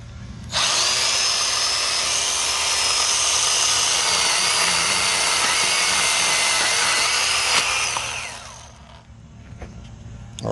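A Milwaukee M12 Fuel Hatchet cordless mini chainsaw cutting through wood, a loud steady whining buzz for about eight seconds that winds down at the end.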